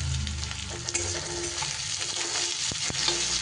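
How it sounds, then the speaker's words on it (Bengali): Onions fry with salt in a hot pan, a steady broadband sizzle throughout, close and fairly loud, broken by a few sharp scrapes and clacks of stirring. "পেঁয়াজটাকে আমি বেশ লাল লাল করে ভেজে নেব।"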